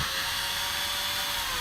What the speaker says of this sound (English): That's why I'm drilling it at an angle.